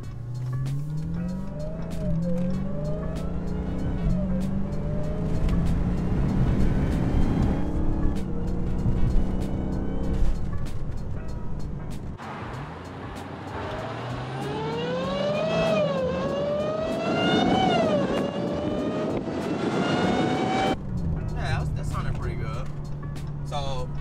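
A 2020 Dodge Charger Hellcat Widebody fitted with a Legmaker intake revs loudly up and down, the supercharger whine rising and falling through several pulls, with a voice talking over it.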